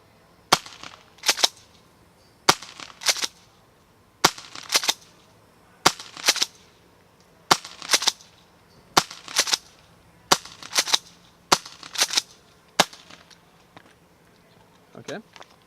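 A JAG Arms SPX2 airsoft gun fires three-round bursts, about nine sharp triple-crack volleys repeated at a steady pace, close and loud over a quiet background.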